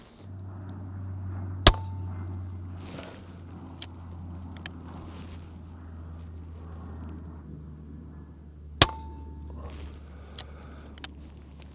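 A Daystate Redwolf air rifle fires Pro Hunter slugs outdoors, two sharp, loud cracks several seconds apart over a low steady hum, each followed by a faint distant thud.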